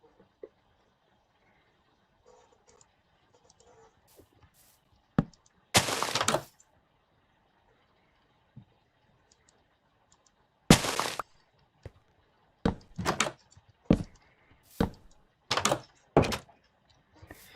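A tiny door being fitted to a handmade miniature house: sharp dry cracks, clicks and scraping bursts, some longer rasping strokes, scattered irregularly with quiet gaps between.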